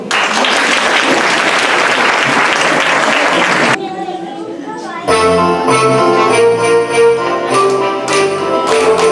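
Loud audience applause at a Christmas festival fills the opening seconds, then cuts off as music with singing begins.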